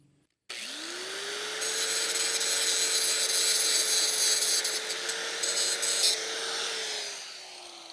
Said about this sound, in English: hit it with the cutting wheel here on the angle grinder